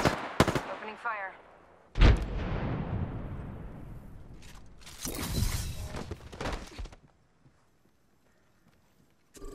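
Gunshots in Apex Legends: a few sharp, loud cracks with long echoing tails, followed by a rattling burst, then a fade to near silence, with in-game voice lines in between.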